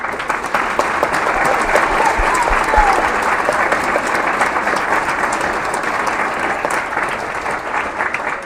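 A round of applause from a school audience at a middle school movie premiere night, honoring seventh grade journalism students; loud, dense and sustained clapping from a large crowd that carries evenly throughout without fading.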